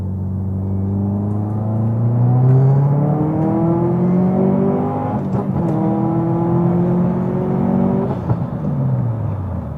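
Tuned Subaru STI pulling hard up an on-ramp, engine note climbing steadily through the revs with a brief dip at a gear change before rising again, loud and close from inside the car.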